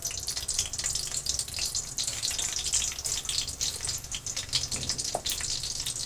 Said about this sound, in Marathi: मी आता हे ठोसून घेतलेलं लसूण टाकणार आहे.